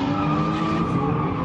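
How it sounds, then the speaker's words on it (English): A drift car slides through a night drifting session at The Villains in Walla Walla, its tires skidding in a steady, loud, sustained screech layered over the harsh roar of a revving engine, close and continuous throughout. "We're gonna watch some night drifting."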